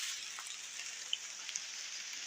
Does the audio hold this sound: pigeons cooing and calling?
no